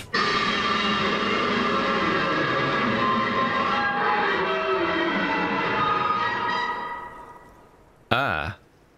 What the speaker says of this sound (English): Violent static and machine sounds fill the air.